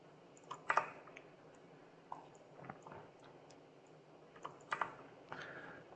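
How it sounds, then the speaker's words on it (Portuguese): Close, quiet clicks of a computer keyboard in a 3D modelling session come as a few isolated key presses with soft tapping between them, sparse and unhurried, with no one speaking. "Eu aperto Delete do teclado para excluir"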